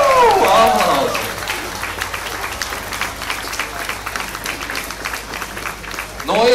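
An audience at the Miss & Misters Ogre 2015 pageant breaks into steady applause after a brief loud voice, clapping filling the hall evenly for several seconds before another voice cuts in at the end.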